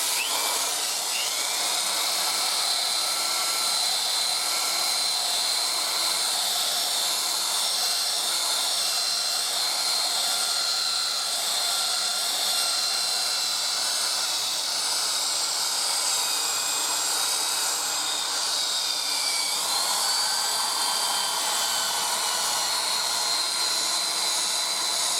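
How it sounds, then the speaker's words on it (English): A drill-mounted buffing wheel polishes a Stratocaster guitar body with a steady, loud high whine and hiss that runs continuously, the pitch shifting slightly as pressure changes. "Now when you get to the edge, you'll see that the drill is spinning this way."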